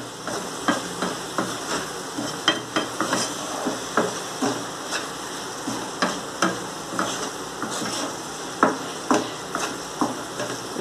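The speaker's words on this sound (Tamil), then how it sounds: "நல்லா ஃப்ரை ஆகி பேஸ்ட் மாதிரி ஆகிற வரைக்கும் நம்ம அப்படியே கிண்டிக்கிட்டே இருக்கணும்" A spoon scrapes and stirs a thick tomato, onion and egg masala frying into a paste in a pan, soft sizzling underneath, strokes repeating irregularly and close up.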